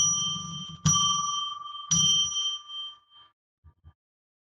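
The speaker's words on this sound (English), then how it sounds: "ringing a bell 3 times to declare sacred" A small hand bell struck twice to open a sacred-space session, each clear bright ring sustaining and slowly fading, followed by two faint soft knocks at the end.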